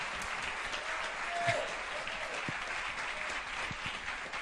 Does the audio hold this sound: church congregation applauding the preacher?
yes